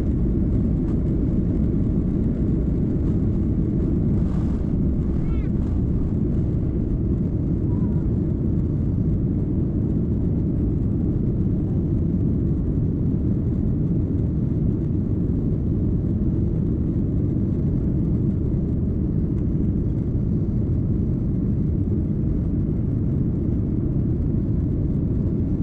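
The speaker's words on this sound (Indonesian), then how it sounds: "pesawat mulai berakselerasi untuk take off" A loud, constant low engine roar inside a Malaysia Airlines plane cabin on a Jakarta to Kuala Lumpur flight, steady and unbroken throughout as the plane speeds up for takeoff.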